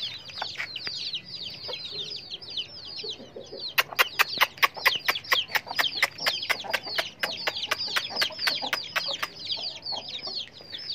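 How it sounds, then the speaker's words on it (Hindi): Aseel chicken chicks cheeping and chirping continuously as their cage is opened, with a burst of sharp rapid clucks and peeps in the middle, close and fairly loud over a quiet farmyard background. "अभी इन चिक्स को खोलते आप देखना दोस्तों कैसे आएंगे"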